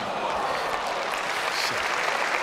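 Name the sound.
tennis audience applause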